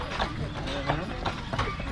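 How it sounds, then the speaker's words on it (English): Percheron draft horses, a French breed, clop steadily on the road while pulling a tour carriage on Mackinac Island, their hoofbeats rhythmic and close, with people talking over them. "Those are Percheron draft horses. The French breed."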